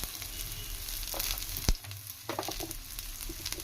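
Mustard seeds and cumin fry in hot oil for a tempering, giving off a steady sizzle broken by sharp pops and crackles, with one loud close crack near the middle.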